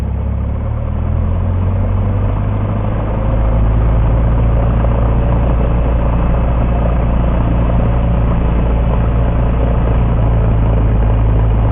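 Cessna 172M piston engine held at 1,700 RPM during a run-up, a loud, steady, close droning roar with low rumble that continues without a break.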